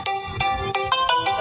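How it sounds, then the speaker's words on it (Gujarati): A mobile phone ringing for an incoming call, with a bright electronic ringtone repeating in short, regular melodic pulses, close and clear. "ફોન આવ્યો"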